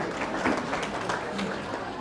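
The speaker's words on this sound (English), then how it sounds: "Please give them a round of applause." An audience at a community gathering applauds. The clapping is steady and dense, a brief wash of many hands heard close and continuous.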